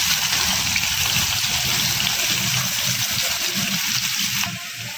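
Chopped onions dropped into hot oil in a kadai, sizzling and frying with a steady, loud hiss that fills the clip and eases slightly near the end.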